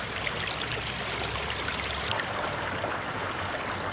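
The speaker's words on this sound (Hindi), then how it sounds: "ये आप देख रहे हैं कि पत्थरों में से पानी अपना रास्ता चीरता हुआ अपने मंजिल की तरफ" Water from a stream rushes steadily over and between stones at the Manchora Dam in Oghi, Mansehra, a continuous close broadband flow with no voices.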